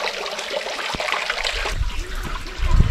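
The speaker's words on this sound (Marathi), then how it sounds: "पाणी एवढं निघतंय." Water gushes out through a gate of the Jeevan Sagar dam on the Nar river as a continuous rushing, splashing flow, loud and close, with a heavier low surge near the end.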